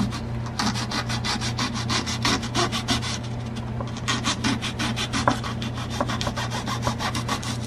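A plastic Fred Kelly Bumblebee jazz guitar thumb pick gets its edges filed in quick, even rasping strokes, close and steady, with no talk.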